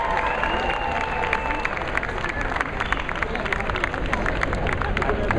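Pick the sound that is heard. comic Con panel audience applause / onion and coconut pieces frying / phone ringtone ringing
comic Con panel audience applause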